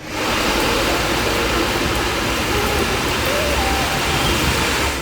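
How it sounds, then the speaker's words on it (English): Steady, dense hiss of rain falling in Chiang Mai, broadband and constant throughout, with no breaks or distinct drops. "It's been raining for the last week or so, pretty much every day"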